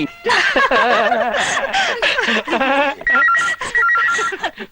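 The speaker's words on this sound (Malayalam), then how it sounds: "phone phone" An old-fashioned telephone bell rings in a Malayalam comedy scene, a rapid warbling ring repeating over the last second and a half, preceded by lively talk with chuckles and laughter.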